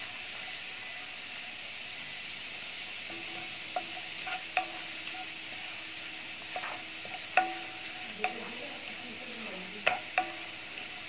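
Garlic and ginger frying in a pan for a tomato and jaggery chutney, giving a steady soft sizzle with scattered clinks and stirring scrapes of a spoon against the pan, close and moderately quiet, with no talking.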